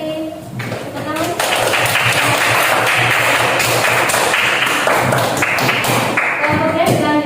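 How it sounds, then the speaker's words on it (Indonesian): An indoor audience breaks into dense, sustained clapping that holds steady for several seconds before tapering off, with a voice heard faintly at the start. "Mari kita beri tepuk tangan."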